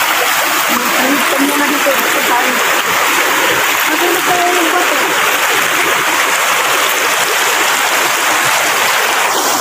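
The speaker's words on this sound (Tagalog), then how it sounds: "Ito yung ilog na tinatawiran namin." River water rushes and splashes continuously in a loud, broadband wash, close by, while someone speaks over it a few times.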